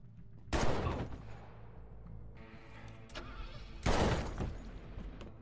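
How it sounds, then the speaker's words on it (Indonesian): Bursts of film gunfire as enemies spray bullets at a boy, two loud volleys of rapid shots with a quieter stretch of rumbling between them. "musuh pun udah ada di luar dan langsung ngebabi buta ngehujanin si anak ini peluru"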